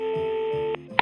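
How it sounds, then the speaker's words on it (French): A telephone line signal sounds after a number is dialed: a steady electronic tone holds for most of the moment, then cuts off, followed by a brief click-like burst, fairly loud and with no talking. "Maurice saisit le téléphone et composa le premier numéro."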